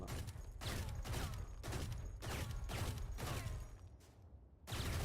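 Rapid bursts of automatic gunfire punch through a wall in the Valorant video game on the Corrode map. About six dense, loud volleys repeat with brief gaps between them, with no talking.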